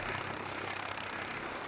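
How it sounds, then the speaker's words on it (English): A medical air ambulance helicopter runs steadily nearby at a landing site, a constant rotor and engine roar with no talk over it. "relocating the helicopter to a cricket field, which will be easier for the ambulance to reach"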